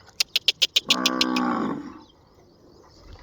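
A cow lets out one loud, drawn-out bellow, preceded by a quick series of sharp clicking knocks, then the call fades into quiet.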